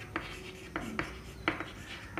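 Pen on paper while a maths ratio solution is written out, soft scratchy strokes and a few sharper taps close by against a faint steady hum.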